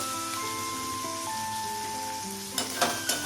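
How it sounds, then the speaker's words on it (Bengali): Capsicum and tomato fry lightly in a pan for chicken maharani, giving a steady close sizzle with a few clattering stirs near the end and no talking. "বেশি ডিপ ফ্রাই করবো না, একটু হালকা হালকা ফ্রাই করছি।"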